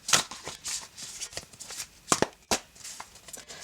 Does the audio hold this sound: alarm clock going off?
no